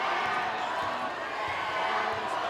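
Crowd in a gym at a boys' high school basketball game between Durfee and New Bedford reacts after a missed three-point shot, a broad sustained roar with a ball bouncing faintly beneath and commentary over it.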